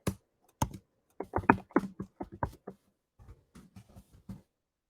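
Keys on a computer keyboard clatter in quick, uneven bursts, close and fairly quiet, with a short pause partway before another run of taps.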